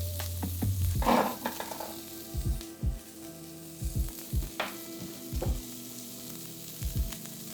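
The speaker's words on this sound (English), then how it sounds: "Slowly, it's starting to melt. This fat is cooking away." Pork fat sizzles and renders in a pan for carbonara, a steady close frying hiss broken by repeated soft stirring scrapes and knocks, with no talk over it.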